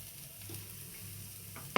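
A fish omelette fries in a pan with a soft, steady sizzle, quiet and close, ending in a brief louder scrape or clatter.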